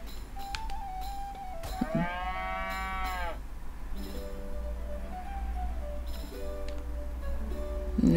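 Cows in South Park: The Stick of Truth moo repeatedly, with several long, drawn-out calls that rise and fall against steady game background ambience and light ticking.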